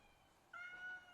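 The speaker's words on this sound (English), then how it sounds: "Stupid cat sound." A single synthetic cat meow plays as a sound effect during a tabletop role-playing game session: one short, thin, sustained mew, faint and alone over quiet room tone.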